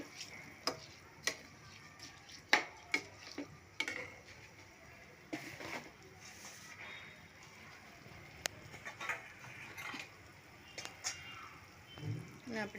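A spoon stirs a vegetable pulao mixture in a pan, giving soft, irregular clicks and scrapes with a faint sizzle beneath, while a person talks over it.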